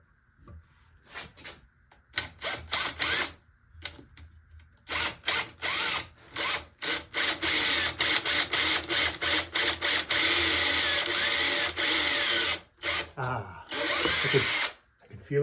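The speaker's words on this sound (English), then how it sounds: "I figure that I'm going to be drilling that hole right here" A power drill bores a hole through a solid electric guitar body, its whine running in repeated short bursts and then longer sustained runs, loud and close, with brief pauses between.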